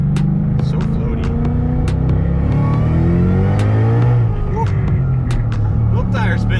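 A 2011-2014 Mustang GT with 87,000 miles roars at full throttle on a dyno, its engine note loud and constant with rising pitch sweeps as the tires spin, sharp clicks and bangs cutting through the drone.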